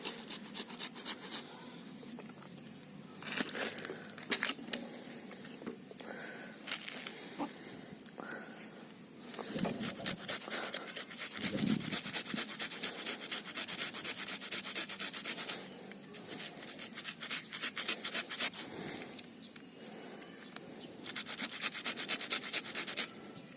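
Ingredients for a plant fertilizer are mashed fine by hand, making quiet, close scraping and rubbing strokes in uneven rhythmic bursts with short pauses between them.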